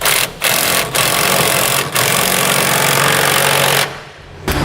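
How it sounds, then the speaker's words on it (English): A 1 1/8 socket tightens 3/4-inch bolts on a gooseneck hitch being installed in a 2008 Chevrolet Silverado, making loud, close rattling bursts broken by several short pauses. "Now we can tighten up our 3/4-inch bolts. We'll use a 1 1/8 socket in order to do that."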